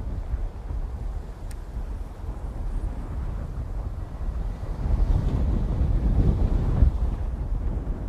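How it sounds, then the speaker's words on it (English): Strong gusting wind buffets the microphone on a bass fishing boat out on the water, giving a constant low roar with surges that grow louder toward the end. "Whew, it is really gusting."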